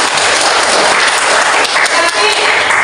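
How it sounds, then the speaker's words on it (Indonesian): A classroom of students claps together, a dense, loud, continuous burst of applause that fills the short moment evenly, with no talking over it. "Oke, tepuk tangan dulu kita semua."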